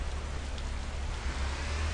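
Steady rain falling in a mobile video game, a constant hiss of soft, even noise throughout with no voices.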